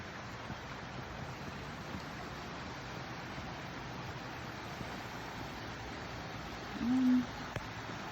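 Small rock waterfall spilling into a pool beneath a footbridge on a woodland walk, heard as a steady broadband rush of falling water, continuous and fairly close, with a brief faint tone near the end.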